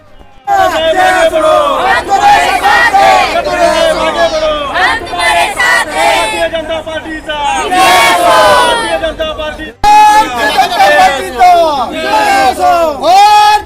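Supporters of Mahayuti candidate Kisan Kathore celebrate an election victory in Murbad, a loud crowd chanting and shouting slogans in repeated surging bursts, close and continuous.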